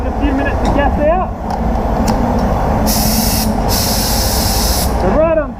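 A spray gun set to 2 bar lays a very thin clear coat on a Mazda 6 in a couple of long, close hissing bursts. Someone talks before and after the spraying.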